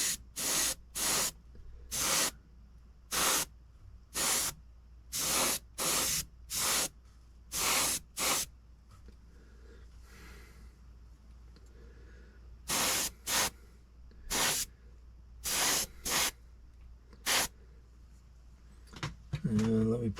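An airbrush spraying a coat of Vallejo acrylic paint onto a plastic model, a series of short, sharp bursts of hiss in quick irregular succession, close and distinct, with quiet gaps between and a brief murmur of voice near the end.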